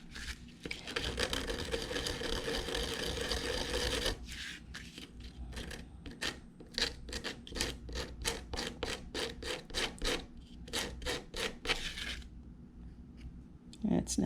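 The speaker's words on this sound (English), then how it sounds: "I think I'm going to have to go with like a little piece of sandpaper." A small piece of sandpaper is rubbed back and forth over wood, first as a dense continuous rasp, then as a run of quick separate strokes in a steady rhythm, close and fairly loud, with no talking.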